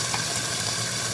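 Beef sizzles steadily in a hot frying pan, a dense, even crackle and hiss with no voices.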